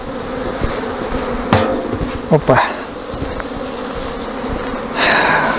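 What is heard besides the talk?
honeybees buzzing around apiary hives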